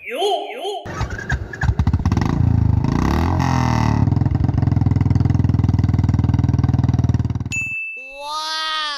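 A cartoon self-start motorcycle fires up and rides off, a busy engine-like roar with clanging and ding accents running loud and steady under talking voices, then cutting off near the end.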